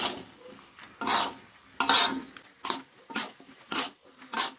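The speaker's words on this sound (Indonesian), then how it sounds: "jangan lupa untuk diaduk lagi agar bumbunya itu tercampur dengan merata" Capcay with button mushrooms being stirred in a pan, a spatula scraping and rubbing in a steady series of strokes, close and moderately loud with no talk.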